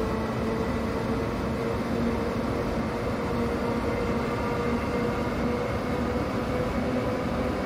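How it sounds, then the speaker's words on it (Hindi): Electric WAP7 locomotive in a train simulator game, a steady, smooth hum and rumble with a faint tonal whine, running continuously and evenly with no voices over it. "ये आप देख सकते हो हमारे जो WP7 लोकोमोटिव है उसका साउंड कितना बढ़िया और कितना स्मूथ है।"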